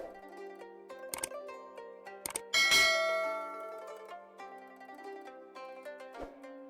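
A bell-like notification chime rings out with a few bright metallic strikes over a sustained musical tone, the loudest strike ringing and decaying slowly before softer tones continue.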